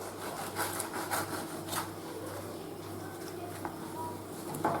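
Knife scraping around a cake inside its baking mold, soft rubbing and grating strokes close by, with a few brighter scrapes and quiet room noise between them.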